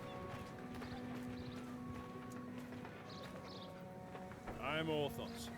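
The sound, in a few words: horse hooves in video game Mount & Blade II: Bannerlord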